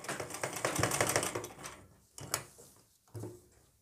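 A sewing machine stitches the folded hem of a suit, running in a rapid mechanical rattle for nearly two seconds, then in two short, close bursts, with no talking.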